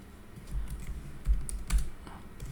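Keys on a computer keyboard are struck in a short, irregular run of soft clicks and thumps, close and fairly quiet, with no voice over them.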